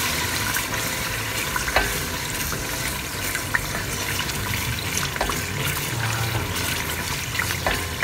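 Onions frying for jollof rice crackle and sizzle steadily in a pan, with scraping stirs and a splash of added water, busy and close throughout with no talking.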